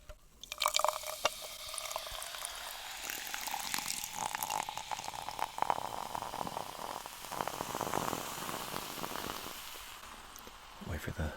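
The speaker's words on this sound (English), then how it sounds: "I'll pour it in here for you." A drink is poured into a glass at a bar, a steady close splashing stream with fizzing and small clinks of glass, ending as the pour tapers off.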